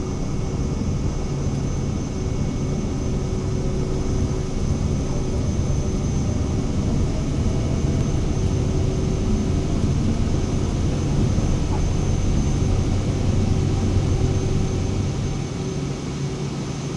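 An aircraft taking off in Microsoft Flight Simulator 2020, a steady, loud engine drone with a constant tonal whine and broad rumble, sustained evenly throughout with no voices.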